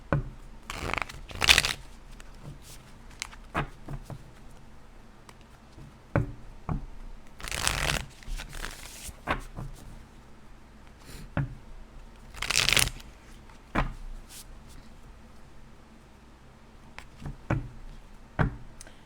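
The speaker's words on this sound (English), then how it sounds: "I'm just clearing out these cards." Tarot cards shuffled in short riffling bursts, several loud crisp rushes separated by quieter handling taps and clicks, close and alone in a quiet room with no talk.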